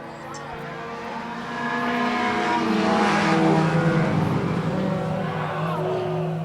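Race cars on an oval track, engines swelling in a loud, droning roar as the pack sweeps past, the pitch rising and falling while a commentator talks over the racing.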